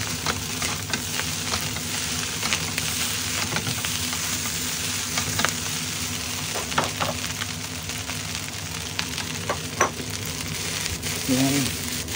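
Egg fried rice frying in a hot pan, a loud, dense, continuous sizzle heard close up, with occasional scrapes and taps of a spatula as it is stirred and a brief voice near the end.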